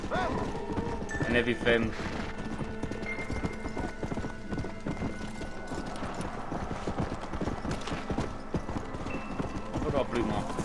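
Hooves of an undead zombie horse clopping in Red Dead Redemption: Undead Nightmare, a steady galloping rhythm running throughout alongside game sounds, with someone talking over it.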